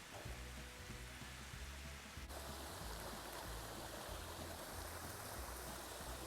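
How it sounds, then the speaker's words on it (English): Waterfall rushing beside a mountain trail on Speck along the Appalachian Trail, a loud, dense and constant roar of falling water that fills the whole clip with no voices. "It's neat, this waterfall is following us all the way up Speck."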